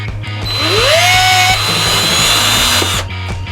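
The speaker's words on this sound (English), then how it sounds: "I'm going to drill a hole in it right" A power drill bores a hole into a plastic Lego boat rudder piece, a loud close whine that spins up and runs steadily for about two and a half seconds before winding down.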